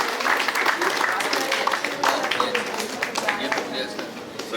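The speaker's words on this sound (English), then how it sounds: "Please give a big round of applause to Priyanka Gupta." Audience applause for Priyanka Gupta at a college convocation ceremony, a dense steady wash of many hands clapping throughout, fairly loud and close, with some voices mixed in.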